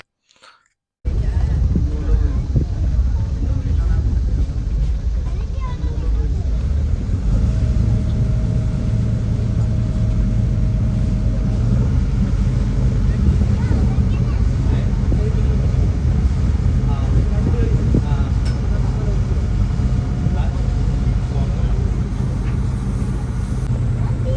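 A small motorboat engine drones steadily on Thekkady lake, a continuous low hum mixed with water and wind noise, close and even throughout with no talking.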